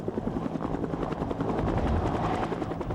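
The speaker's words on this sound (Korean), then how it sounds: "본격적인 공격용 헬리콥터로 개발돼 탄생한 것이 바로 이 코브라 헬기다." A Cobra attack helicopter flies nearby, its rotor blades producing a loud, fast, rhythmic chopping thump over a deep engine roar that stays strong and steady throughout.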